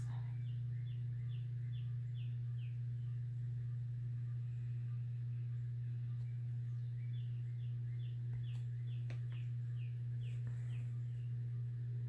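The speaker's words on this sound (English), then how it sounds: "All the birds are singing. It's so pretty." Birds sing outdoors through an open back door, repeated chirping phrases heard faintly at a distance over a steady low indoor hum.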